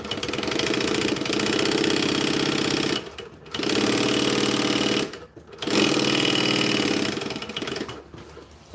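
A sewing machine stitches a bag in three loud, steady mechanical bursts of rapid rhythmic chattering, separated by brief pauses.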